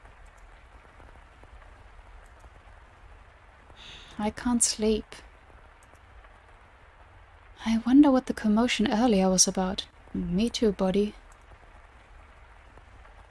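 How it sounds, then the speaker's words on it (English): Soft, steady rain in The House in Fata Morgana stays low in the background while a voice speaks in a few short bursts over it. "The rain just won't let up."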